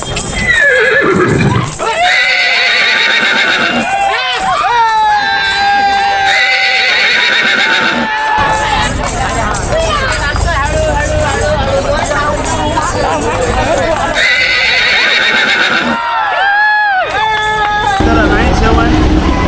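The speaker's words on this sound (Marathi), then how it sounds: "येथे सिन्नरचे वैभव वारुंगसे यांनी आपला छोटा हिंद केसरी करण आणि लखी या दोन्ही घोड्यांचा निवृत्तीनाथ महाराज यांच्या पालखीसमोर नृत्य सादर केले आहे." Two horses dance before a saint's palanquin procession in Sinnar, neighing loudly several times and clip-clopping amid steady crowd hubbub and chatter, all close and loud throughout.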